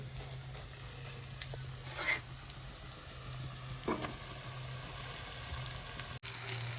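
Boiled potato goes into a frying pan with ginger and oil, giving a faint, steady sizzle. A couple of soft clatters sound along the way and one sharp tick comes near the end.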